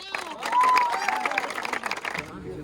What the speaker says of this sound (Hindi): चलो तालियां एक बार और